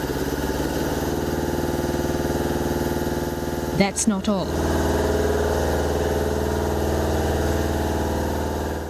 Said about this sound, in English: the second the engine roars to life, diesel fumes fill the air.